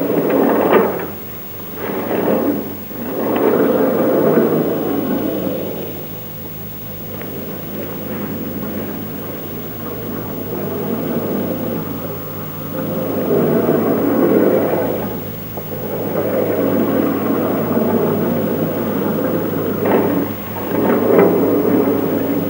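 A linear induction motor vehicle riding along a rail, heard as a low rumbling, whooshing surge that swells, fades and swells again over a long stretch, with a steady mains-like hum underneath and no talk.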